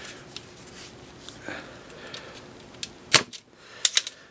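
An X Shot Recoil foam dart blaster fitted with a Foamdemic kit fires a few sharp, close snaps near the end, standing out from quiet handling noise.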